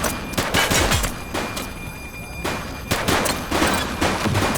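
Gunfire from The Precinct video game, rapid loud bursts of shots and fusillades in close succession with brief pauses between volleys, and no talking.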